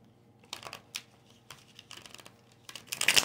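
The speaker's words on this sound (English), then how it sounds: "That was the messiest shuffle I've had yet today." Tarot cards from the Light Seer's Tarot deck are shuffled in several short bursts of riffling and flicking, with brief quiet gaps between them and a louder flurry at the end.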